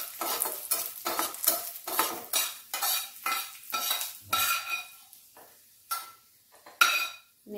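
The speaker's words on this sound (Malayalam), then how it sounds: "കിസ്മിസ് ഇട്ടിട്ടുണ്ട്. ഒന്ന് മൂപ്പിച്ചെടുക്കാം." Raisins frying in ghee in a pan, with a spoon scraping and stirring in repeated rhythmic strokes over a soft sizzle. The strokes come close and clear at first, then thin into sparse louder clinks near the end.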